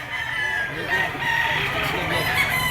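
A Hatsneger stag rooster crows in a gamefowl pet market, a sustained, strained call held for nearly three seconds over a steady murmur of crowd noise and faint voices.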